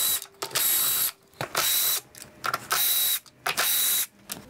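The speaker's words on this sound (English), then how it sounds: "And now you need to remove the three Torx screws over here" Bursts of ratcheting, buzzing driver action as Torx screws are backed out of a cut-off saw cover, four close, loud runs of about half a second each separated by short pauses and clicks.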